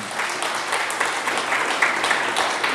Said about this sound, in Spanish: Un aplauso a Dios por eso.